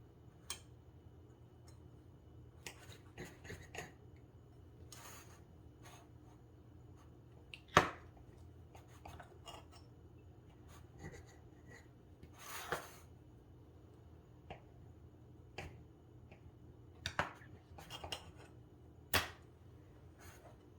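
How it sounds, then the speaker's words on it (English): A knife cuts cucumber chive tea sandwiches into triangles, giving sparse, faint ticks and soft rubbing thuds spaced over a quiet background, with no talking. "cut my sandwich into triangles"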